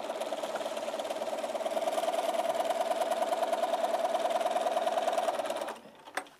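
A sewing machine stitches a quilt fabric seam, running at a steady fast rhythmic whir for about five and a half seconds before stopping abruptly, close and clear with no talking.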